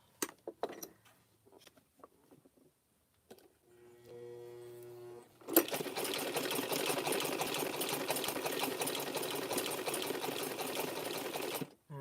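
Sewing machine stitching through rope while making a rope chain, running steadily and loudly for about six seconds after a brief spell of slower stitches, with quieter handling and clicks before it starts.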